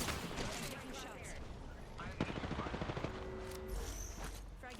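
Rapid gunfire rattles in a hectic Apex Legends firefight, bursts of shots and machine-gun fire mixed with game effects and a brief tonal beep, while a voice talks over it.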